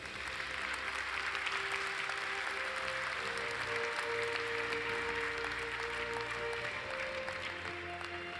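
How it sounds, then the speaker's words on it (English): An audience at an awards ceremony for European identity and cloud work applauds steadily, a dense unbroken clapping that holds at an even level throughout. "will you give a round of applause to the UK Government Digital Services for their work"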